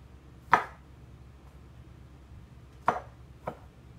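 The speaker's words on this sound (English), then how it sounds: "Let's cut those up. Should have sharpened my knife." A kitchen knife chopping potatoes on a cutting board for a potato casserole, three distinct sharp thunks spaced unevenly apart, close and clear against a quiet background.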